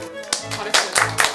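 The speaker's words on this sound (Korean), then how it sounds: "박수" A few short bursts of hand clapping from a small group in a Korean talk-show studio, sharp and close, mixed in with lively talking.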